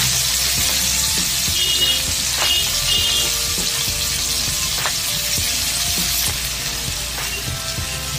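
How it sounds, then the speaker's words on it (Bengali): Chopped onion frying in a pan, a loud, continuous close-up sizzle with faint occasional clicks of stirring, steady throughout with no talking. "পেঁয়াজটা 2 মিনিট মতো ভালো করে ভেজে নিয়েছি"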